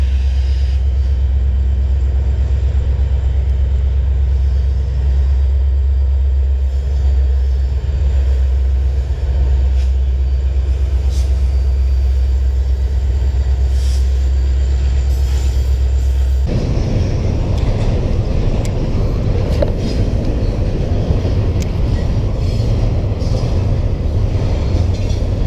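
A train rumbles past close by near a river in San Antonio, a loud continuous low roar that changes character partway through as the cars roll by, with no talking.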